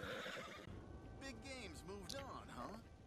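A horse in the Western video game Red Dead Redemption 2 lets out a loud, drawn-out whinny with wavering pitch, heard up close while a person talks over it.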